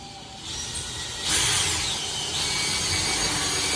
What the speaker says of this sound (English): get our drill through, get this lined up